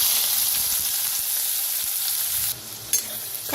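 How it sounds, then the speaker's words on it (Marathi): Finely chopped onion fries in a pan with cumin and a pinch of asafoetida, a bright continuous sizzle with a few soft stirring knocks, dropping slightly in level near the end; no speech. "कांदा आता छान असा भाजून घेऊया।"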